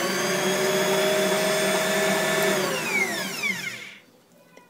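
An electric mixer blends yeast mixture into whole wheat bread dough, its loud, steady motor whine holding even before slowing, dropping in pitch and cutting off near the end.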